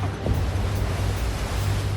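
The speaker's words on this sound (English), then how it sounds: "The waves are massive, and there's a strong wind blowing." Massive ocean waves churn in choppy water on a South African shoreline under strong wind, a dense continuous roar of surf and wind buffeting close to the microphone.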